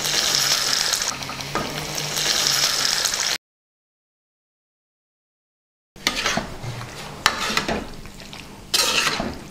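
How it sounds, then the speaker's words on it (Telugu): Onions sizzle steadily in hot oil in a pan while cooking gongura chicken, with a loud constant fry, occasional stirring scrapes, and a short break of silence partway through. "ఇప్పుడు ఉల్లిపాయలు బాగా వేగినాయి"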